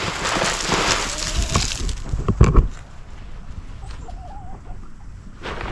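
Farm chickens cluck and squawk in a loud outdoor flurry at a rustic fence site, busy and continuous at first before thinning into quieter scattered clucks, with no talk over them.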